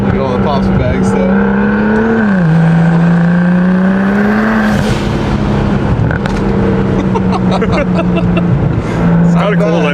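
A BMW 135i with an N54 engine converted to a single turbo runs loud, with a steady droning exhaust tone shifting in pitch and scattered sharp pops and bangs on top, while people talk inside the car.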